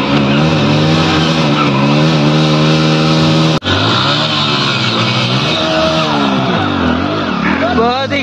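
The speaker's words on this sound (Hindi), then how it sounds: "साउंडों की आवाज से तो ऐसा लग रहा है ट्रैक्टर खींच जाएगा" A Swaraj 855 tractor's engine revs hard and loud as it strains in a tug-of-war against two Splendor motorbikes, a dense continuous roar with shifting pitch and a brief sharp dropout midway.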